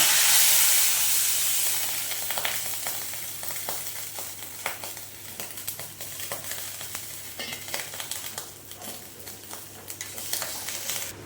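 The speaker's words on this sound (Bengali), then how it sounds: "বন্ধুরা দিয়ে দিচ্ছে জল কেন জল দিয়ে দেবে ও একটুখানি জল দিল যাতে মশলাটা পুড়ে না যায়" Water splashes into hot frying masala for a katla fish korma made with plantain, setting off a loud burst of steam and sizzle that fades into a steady crackling fry with light stirring clicks.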